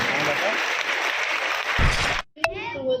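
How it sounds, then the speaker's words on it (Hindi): A crowd claps loudly and steadily for a former student of the school who became a collector, then the applause cuts off abruptly and a voice begins speaking. "तो एक बार इनके लिए बहुत जोरदार तालियां"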